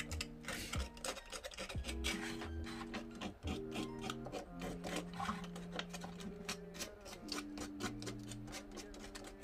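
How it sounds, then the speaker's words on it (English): Sandpaper rubs against the corners of a 3D-printed part in quick, repeated scratchy strokes, close up and fairly quiet, with a motorized hum of varying pitch running underneath. "Like to get a little bit of sandpaper and dull these corners down just a little bit."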